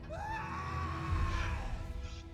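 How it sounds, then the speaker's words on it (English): A single long, high-pitched scream from a character in the fantasy role-playing game Pathfinder: Kingmaker, starting sharp, holding loud and tense for about two seconds, then trailing off over low rumbling background noise. "Well, that was a good scream."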